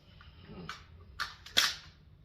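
Three sharp airsoft pistol shots from a Valken M17, spaced about half a second apart, close and crisp over a faint background hum.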